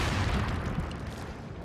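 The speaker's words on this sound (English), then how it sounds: "That's why you shouldn't play with firecrackers." A firecracker blast in the video game Resident Evil 4 gives a dense, booming burst of explosion noise that decays over about a second and a half.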